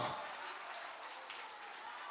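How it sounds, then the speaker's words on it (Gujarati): A crowd at a Krishna Janmashtami festival of a Leva Patel community in Mumbai applauds a donor family in a brief, dense, even burst of clapping. "મિત્રો એક વખત આ પરિવારને જોરદાર તાળીઓથી વધાવશો"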